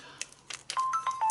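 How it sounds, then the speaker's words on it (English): A mobile phone gives off a quick run of short electronic beeps and tones, clear and close, with no one talking over them. "Oh, don't mind my phone."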